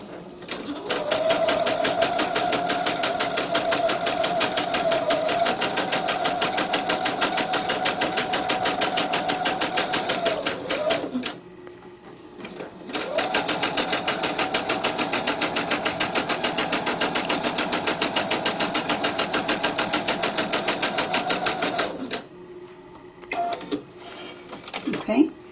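Sewing machine stitching cording into fabric with a piping foot, a fast steady whirring hum in two long runs of about ten seconds each, split by a short pause and with a brief burst at the end, close up and loud.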